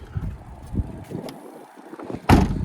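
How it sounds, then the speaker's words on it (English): Wind buffets the microphone outdoors beside a 2016 Kia Soul Plus on a chilly December day. Low rumbling gusts come and go, with a sharp, loud blast near the end. "sorry if the wind noise is coming through"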